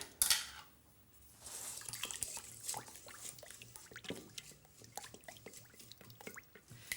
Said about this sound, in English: now we are now moving into the whisking.